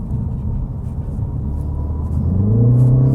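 A Mini Cooper JCW accelerates hard: a loud, close engine rumble that swells steadily and climbs in pitch toward the end, with no talking.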